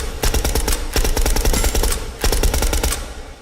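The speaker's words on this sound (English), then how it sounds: "You can really hear the bolt mechanic noise too when we've got a much more dampened firing noise" A suppressed WWII firearm in a video game fires two rapid bursts of muffled, dampened shots, with mechanical bolt clatter mixed into each burst, loud and close with no voices.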